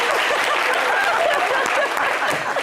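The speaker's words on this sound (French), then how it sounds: "On a applaudi pour Olivia." Studio audience applause on a French weekend talk show, loud continuous clapping throughout with a few chuckles mixed in.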